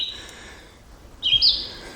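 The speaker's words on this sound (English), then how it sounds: "you hear the bird loudly singing" Bird singing in dark woods: a thin high whistle fades early, then a bright, clear chirping phrase bursts out nearby and trails off, with no voices.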